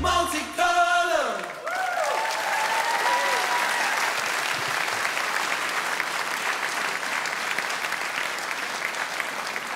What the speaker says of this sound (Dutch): neem het applaus lekker in ontvangst